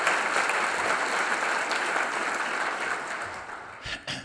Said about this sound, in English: One more round of applause for Dan Jones.